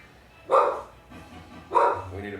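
A person imitates a dog barking during a tabletop role-playing game session, giving two loud, separate vocal barks roughly a second apart, each followed by quieter murmuring.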